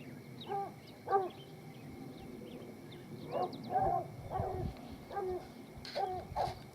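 Hunting dogs trailing a black bear in Utah yip, bark and whimper at a distance, a scattered run of high excited calls over faint outdoor background.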